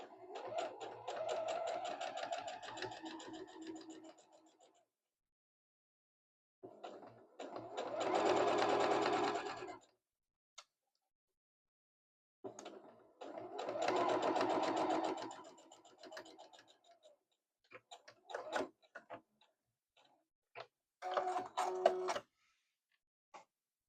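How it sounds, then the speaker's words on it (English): A sewing machine top-stitches fabric at an eighth-inch seam, running in several bursts of steady mechanical whirring a few seconds long, each broken by silent pauses and ending with short choppy stitches, close and fairly loud, with no voices. "I'm going to do 1/8 of an inch, just like always when I'm top stitching."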